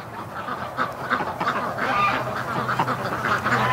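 Muscovy ducks and geese call together in a farmyard flock, a steady jumble of honks and quacks at moderate distance over a low, constant background hum.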